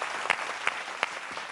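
A television studio audience at a Bengali family game show claps loudly, a dense burst of applause with a few sharper individual claps standing out, alone for under two seconds.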